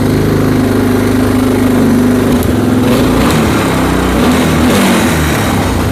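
A restored Moto 4 engine runs slightly lean after choking, a steady loud small-engine drone that settles from a smooth idle into a rougher, uneven putter, close up and alone.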